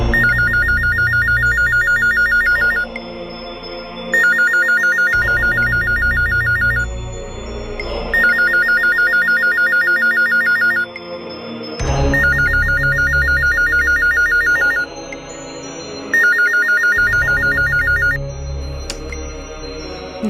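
A telephone rings in repeated bursts of a trilling electronic bell, roughly every few seconds, loud and steady over a low musical score, with no talking.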